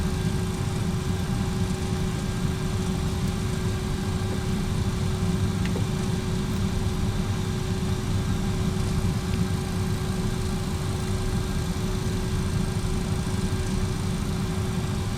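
MD80 jet engines idling in the X-Plane 11 simulator give a continuous, even drone with a steady tonal whine on top, unchanging and moderately loud for the whole stretch.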